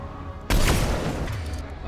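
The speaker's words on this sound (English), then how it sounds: "Somebody's still throwing grenades over here." A grenade blast in the Mass Effect 3 video game bursts in suddenly and loudly out of a low, steady backdrop, then rumbles on as a broad, fading roar with scattered debris for over a second.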